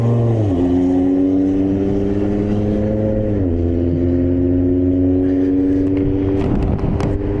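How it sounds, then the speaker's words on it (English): A loud car passes close by on the road, its engine droning steadily and shifting pitch twice as it revs, heard from beside traffic while riding an e-bike. "This loud car not even freaking signaling, bro."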